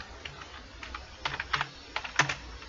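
Someone types on a computer keyboard in MS Word, with irregular clusters of crisp close keystrokes that come in quick bursts with short pauses between them and no speech.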